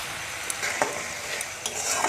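Spiced masala mixed with cashew paste and beaten yogurt sizzles in a pan while a spatula stirs it, giving a steady frying hiss broken by a few sharp scraping strokes.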